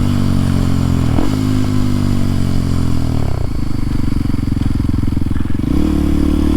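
A small, low-horsepower motorcycle fitted with a windshield runs steadily close by, its engine droning loudly with brief shifts in pitch as it speeds up and eases off.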